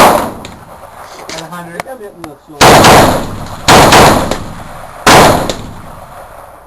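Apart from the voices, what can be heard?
gunshots at a shooting range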